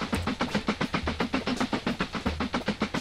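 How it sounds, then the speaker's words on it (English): A long in-game train ride in the railway building game Mashinky gives a steady, rhythmic clickety-clack of wheels over rail joints, repeating evenly throughout with a low rumble and no talk. "It's a really long train ride, apparently."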